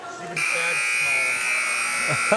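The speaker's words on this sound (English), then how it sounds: "There's the buzzer" A final buzzer sounds at a boys varsity basketball game, a loud, sustained electric tone that starts abruptly and holds steady for about two seconds, with commentators talking beneath it.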